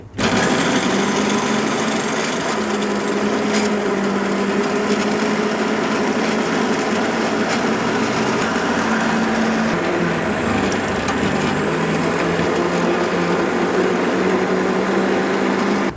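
An electric grinder whirs loudly and continuously as it blends about one and a half pav of quartered tomatoes into paste, a steady high motor whine with slight pitch shifts as the load changes.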